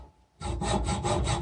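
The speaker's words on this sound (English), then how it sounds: "we're just going to use my little trusty chop saw by hand real quick" A hand saw cuts through soft material for a homemade piston stop tool. After a brief quiet start, it rasps in steady back-and-forth strokes, close and fairly loud, with no talking.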